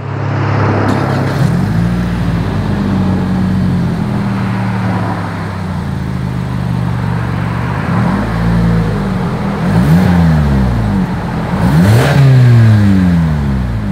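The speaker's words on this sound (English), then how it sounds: "As always, here is that exhaust clip." A 2020 Toyota Camry XSE V6 with dual exhaust and quad chrome tips revs repeatedly, rising and falling blips rumbling loud and close over a steady idle, with sharper revs near the end and no talking.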